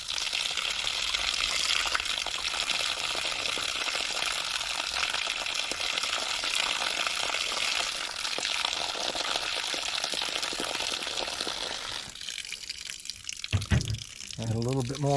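Water is poured off eggplant seeds in a steady splashing gush that runs for several seconds, then stops and gives way to a few wet knocks and trickles.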